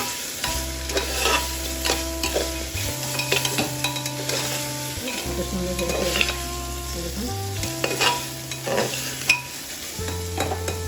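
Sautéed goat leg pieces and prawns sizzle in a pan while a spoon stirs and scrapes repeatedly, a continuous close frying hiss over a steady low hum.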